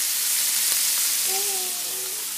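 Chicken pieces finishing in a vodka cream sauce with mushrooms, garlic, onion and herbs, giving a steady close sizzle and bubble from the pan, with a faint short tonal whine partway through.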